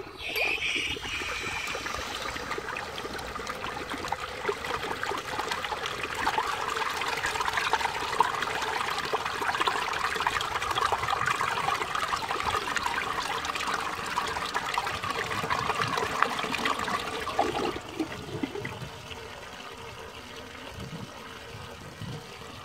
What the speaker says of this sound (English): Strong flush.